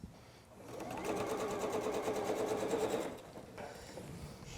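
A sewing machine runs steadily for about two seconds stitching quilt pieces for a star wall hanging, a close, even mechanical whir that starts and stops cleanly, with quiet room tone around it.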